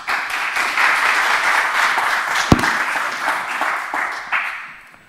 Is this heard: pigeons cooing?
no